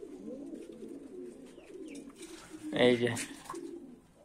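Pigeons coo softly and low in a loft while the birds are bathed, with a brief louder burst midway and someone speaking a couple of words nearby.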